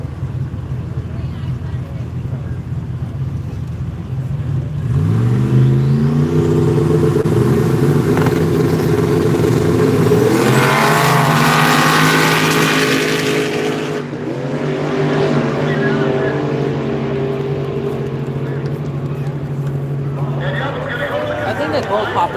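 At a Duct Tape Drags beater drag race, cars launch down the strip with loud engines rising through rapid gear changes. A roaring pass builds and then fades, with people talking over it throughout.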